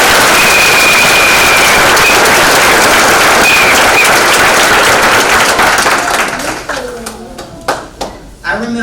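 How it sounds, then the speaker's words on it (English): A large crowd applauds graduates at a high school completion ceremony: loud, dense clapping and cheering fills the hall, with a few whoops, then thins out toward the end into scattered individual claps. "You all deserve a huge round of applause."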